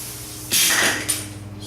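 A short, sharp burst of hissing air from an air compressor line, lasting about half a second, followed by a softer trailing puff over a faint, steady background hum.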